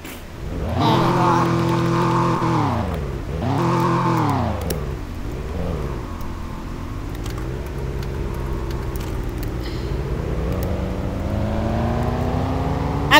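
In a video game, a car engine revs in a few rising and falling swells while the car backs up, then settles into a steady drone with a whine that slowly climbs.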